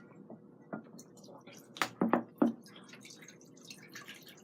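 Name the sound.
draining cooking water off volcano noodles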